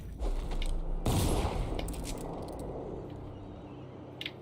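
A gunshot in the Dishonored video game: one sharp, loud blast with a short rumbling tail, followed by faint mechanical creaks and a quiet background, with a small click near the end.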